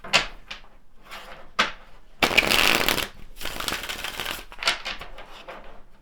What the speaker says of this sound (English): Let's pull some additional tarot cards and see what wants to come forward.